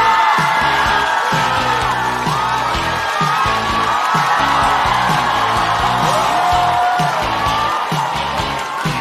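A studio audience at a Chinese stand-up comedy show claps and cheers loudly and steadily, with whoops and shouts rising over a dense wall of applause that fills the whole stretch.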